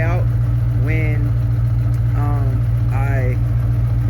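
A Chevrolet Impala engine idles steadily with a slight exhaust leak, a constant low rumble throughout while a person talks over it.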